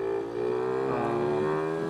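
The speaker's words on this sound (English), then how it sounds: "I hear it's bogging pretty good at takeoff." A Honda Urban Express NU50 moped with a Mikuni VM18 carburetor bogs at takeoff, its small engine droning in a strained, steady buzz with a brief dip before climbing slightly, heard alone.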